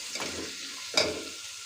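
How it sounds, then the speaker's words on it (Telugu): Chopped onions frying in oil in a pan, a soft steady sizzle with two brief stirring scrapes, the second sharper and louder, heard up close in a short burst. "ఇలా కట్ చేసి పెట్టుకున్న ఉల్లిపాయలు వేసుకొని బాగా వేయించుకోవాలి."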